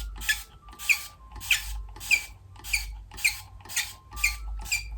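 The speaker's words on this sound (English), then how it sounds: "I hate this spray bottle" A plastic spray bottle is squeezed eight times in an even rhythm, each pump giving a sharp squeak over a hissing spray burst, close and distinct against near silence.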